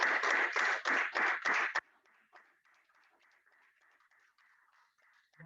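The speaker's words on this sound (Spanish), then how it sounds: "un aplauso, Señor" Congregation in a church breaks into loud, dense applause for nearly two seconds, then it cuts off abruptly, leaving faint scattered murmuring and soft shuffling.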